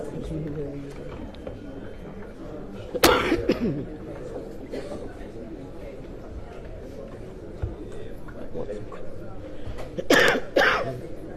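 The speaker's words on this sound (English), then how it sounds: "Don't start coughing now." Two bursts of coughing, one near the start and a louder double cough toward the end, rise over a steady murmur of background voices in a crowded indoor room.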